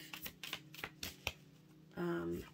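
A deck of cards being shuffled, a run of quick riffling flicks and soft slaps at an uneven pace, followed by a brief steadier burst near the end, fairly quiet and close.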